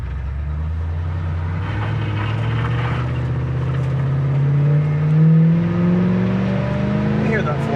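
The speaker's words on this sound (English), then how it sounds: "I like whatever exhaust they put on there. It sounds really nice." A 1977 Chevrolet Camaro's 305 V8 with a four-barrel carburetor idles and revs steadily, rising and falling in pitch with a deep exhaust rumble, heard close up and continuous.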